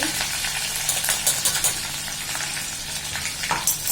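Curry leaves, turmeric and red chilli powder sizzle in a frying pan over low heat while a spoon stirs them. The close, continuous crackle carries rhythmic scraping strokes throughout.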